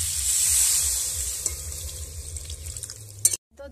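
Potatoes fry in oil in a pan for a Bengali hilsa curry with kalo jeera, giving a steady close sizzle with a few stirring scrapes and clacks before it cuts off abruptly.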